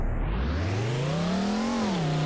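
Loud car engine in the Roblox game Car Dealership Tycoon, droning steadily and rising in pitch as it revs up, then dipping briefly near the end, continuous and close with no one talking over it.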